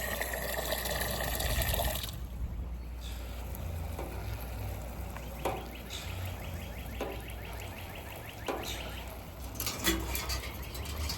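Water pours and splashes onto winter-sown seedlings in jugs outdoors, a soft continuous trickling broken by brief louder splashes, fairly close and fairly quiet.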